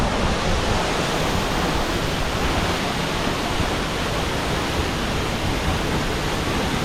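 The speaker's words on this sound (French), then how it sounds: "La cascade d'Amen." The Amen waterfall in the Daluis gorges roars as a dense, steady rush of falling water, loud and close, filling the space without pause.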